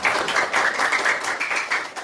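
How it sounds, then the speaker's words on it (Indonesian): Classroom clapping for a group presenter during a teaching session: a moderate, steady patter of many hands applauding together, fairly close, with no talk over it. "Oke, beri tepuk tangan untuk Pak."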